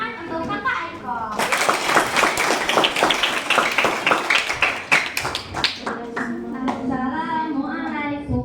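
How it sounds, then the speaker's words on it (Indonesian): Children and teachers at a school batik-making workshop clap for a student speaker, sharp hand claps rising for several seconds after a brief spoken introduction, then thinning as talking resumes. "Tepuk tangan untuk kakak Aiko"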